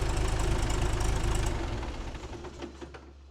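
An old barn-find bulldozer engine idles with a loud rough diesel knock close by, then slows and fades as it is shut off, its throbbing rhythm winding down at the end.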